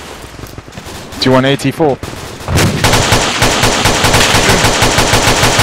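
Loud gunfire and rapid machine gun bursts in a military video game. A voice talks first, then the firing becomes a steady, close rattle of shots.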